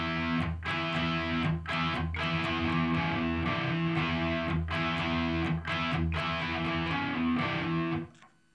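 Distorted electric guitar plays a full riff slowly, gritty sustained chords broken by sharp rhythmic stabs and pull-off notes, loud and close with no voices until it cuts off.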